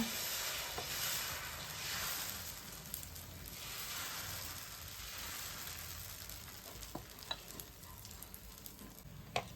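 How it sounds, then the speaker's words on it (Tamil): Plain dosa batter sizzling on a hot griddle beside another griddle, a steady quiet frying hiss with occasional small pops and scraping clicks. "பக்கத்து தோசைக்கல்ல வெங்காயமெல்லாம் போடாமல் சாதா தோசை ஊற்றிக்கலாங்க"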